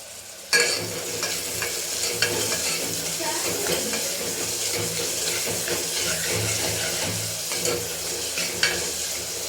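Onions frying in a pan for kurma give a steady, close sizzle that holds throughout, with occasional clinks and stirring scrapes rising over the crackle.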